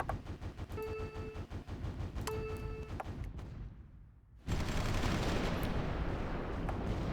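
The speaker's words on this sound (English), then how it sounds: "I think Japan is bombarding the coast." Japanese coastal bombardment in Supreme Ruler Ultimate: loud booming blasts and rolling gunfire, a brief near-silent dip, then a dense sustained roar of continuous shelling.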